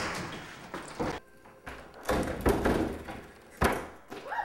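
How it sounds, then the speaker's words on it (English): A door is forced open against its security chain and the trim splinters: a series of heavy thuds, bangs and cracking impacts at irregular intervals, loud and close, with no talk. "We broke the chain and obliterated the trim."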